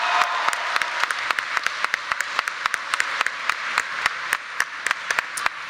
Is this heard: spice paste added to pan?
no